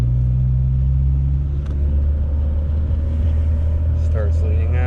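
A car engine runs rich during street tuning, held at a steady rpm as a constant, loud, close low drone with a faint voice briefly near the end.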